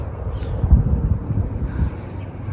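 Strong wind buffets the microphone outdoors in a Canadian backyard during summer, a rumbling low gusty roar that swells and eases without speech.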